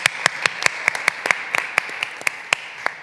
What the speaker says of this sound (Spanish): así que un aplauso, por favor